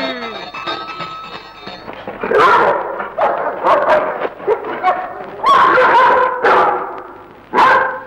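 A German dog barks repeatedly in loud, close bursts with uneven gaps, after a brief stretch of other sounds at the start.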